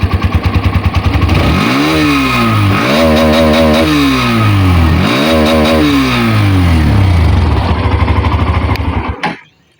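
A Hero Xtreme 125R motorcycle exhaust is revved loud and close three times over a rough idle, each rev climbing and dropping, before the engine cuts out abruptly.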